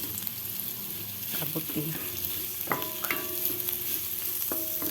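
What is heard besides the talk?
sautéing garlic, onion and chili in a pan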